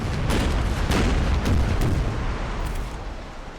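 Warship cannon broadsides in the Napoleon: Total War naval battle in the Mediterranean, a dense barrage of booming shots and crackling volleys rolling together loudly, fading slightly toward the end.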